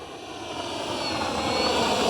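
Twin 64mm electric ducted fans on a radio-controlled F-15 Eagle model jet at 18% throttle, giving a steady whooshing whine with a high tonal edge that swells slightly louder over a couple of seconds, with no voices.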